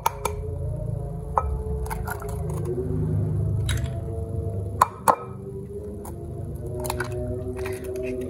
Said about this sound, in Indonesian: Telur ini saya kocok lepas dulu.